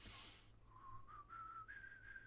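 A person whistles a single thin note, wavering slightly in pitch and breaking briefly, faint and alone, at a harmonica workshop.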